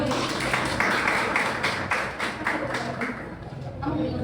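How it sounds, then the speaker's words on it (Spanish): Classroom students clap for a classmate, a dense patter of hand claps filling the room at steady loudness with voices chattering underneath. "aplauso para Yanni"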